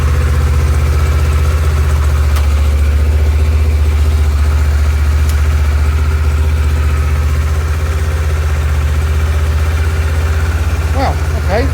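Kawasaki KLE Versys motorcycle engine idling steadily at just over 1,000 rpm, a loud, continuous low rumble with even rhythm throughout, close to the bike.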